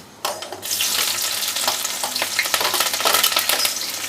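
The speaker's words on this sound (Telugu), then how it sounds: "ఇప్పుడు ఆ పోపులు వేయి ఉల్లిపాయలు వేయి" Tempering spices and onions hit hot oil in a home kitchen pan for a spring onion and tomato curry, giving a loud, steady sizzle that bursts in abruptly and crackles on without talk.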